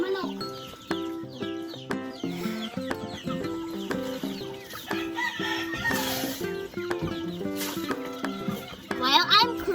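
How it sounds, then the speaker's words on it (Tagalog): Chickens cluck and call in a busy outdoor farmyard, brief rhythmic clucks repeating over other animal and background noise, with distant children's voices mixed in. "Manok."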